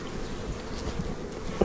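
A steady, soft hum of honeybees rises from the frames of a hive being checked after winter, continuous and unbroken, ending with a small handling knock.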